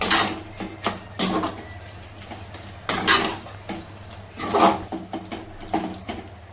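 Aloo baingan sabzi with kasuri methi mixed in a pan, a spoon scraping and knocking the metal in irregular close strokes, with no talking.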